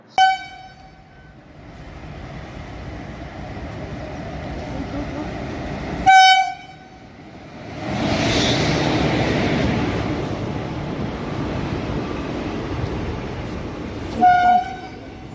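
The Kanchanjangha Express pulls into Dakshineswar station, sounding three sharp horn blasts spaced across the clip over a continuous rumble of the arriving train, with voices on the platform mixed in.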